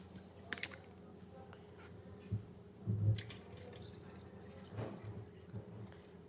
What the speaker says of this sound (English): I put enough water to cover it.